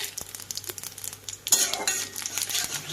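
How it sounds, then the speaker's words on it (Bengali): Bay leaf, dried chili and panch phoron fry in hot oil with a close, crackling sizzle, punctuated by light utensil clicks and stirring, growing louder partway through. "রান্নাও বসিয়ে দিয়েছি একই তেলের মধ্যে তেজপাতা শুকনো লঙ্কা ও পাঁচ ফোড়ন দিয়ে"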